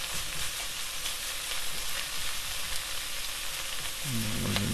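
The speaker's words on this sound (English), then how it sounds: "So we're gonna go back to high heat. We're gonna get this moving again. Get that cabbage cooked down." Shredded cabbage sautéing over high heat in a vegetable noodle stir-fry, a constant dense sizzle with scraping stirs, a brief scrape of a utensil near the end.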